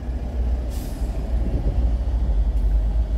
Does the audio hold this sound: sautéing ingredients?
no